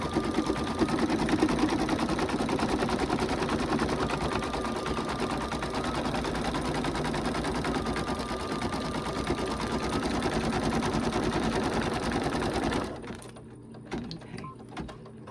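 Embroidery machine stitching a snowman design into fabric held in a hoop, a steady fast mechanical whir and rapid needle chatter running continuously at close range before stopping abruptly near the end.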